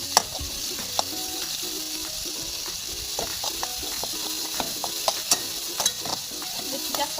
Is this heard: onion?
yes